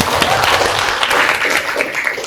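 A classroom group applauds steadily, a dense wash of clapping from many hands that holds at an even level throughout.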